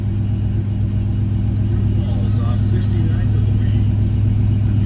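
A deep, steady 6-liter V8 engine rumble at idle in a 1975 GMC Jimmy, a throaty low exhaust drone that stays constant, close by, with faint talk over it.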